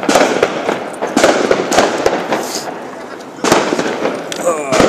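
New Year's fireworks in Rotterdam crackle and bang repeatedly in sharp bursts, some close and loud, with a brief whistle near the end.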